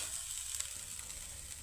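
Boiled beans frying in a pan on a lit gas stove for a Kerala bean thoran, giving a steady close sizzle that holds without a break, with no voices.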